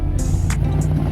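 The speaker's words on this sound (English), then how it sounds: "I hear a car." A car drives by at an outdoor car show, a steady low engine rumble close by with a light wash of hiss above it, and no voices.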